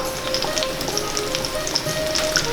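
Meatballs simmer in sauce in a pot, giving a steady, close sizzling bubble with scattered small pops and ticks throughout, no voices.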